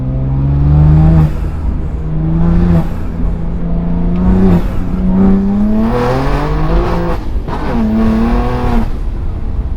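A car engine with a front-mount intake revs hard and loud, with rising and falling pitch across several throttle blips, close by and with no talking.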